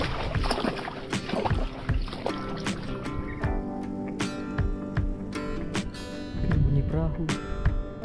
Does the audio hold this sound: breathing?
no